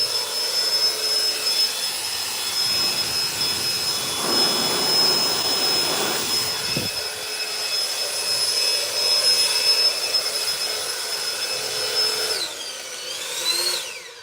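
A leaf blower running at high power gives a steady, loud, close rushing roar with a piercing whine over it. It dips briefly midway, then the pitch sweeps as it winds down near the end.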